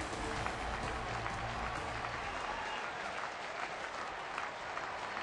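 Applause and cheering from a crowd of over 22,000 at a Reds–Pirates baseball game in Pittsburgh, a dense, steady wash of clapping filling the ballpark throughout.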